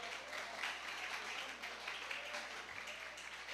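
Soft, steady applause from a church congregation during a Sunday worship service, heard distantly over a low electrical hum, with no speech on top.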